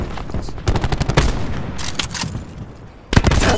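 Rapid gunfire in the video game Call of Duty: Black Ops 4, loud, dense bursts of shots in quick clusters with a brief lull before another volley.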